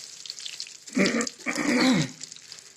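Raw banana slices deep-frying in hot oil over a high flame for crisp chips, giving two loud bursts of close bubbling sizzle with quieter frying between them.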